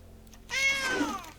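A single cat meow rises and falls over about a second, clear and fairly close against a quiet background.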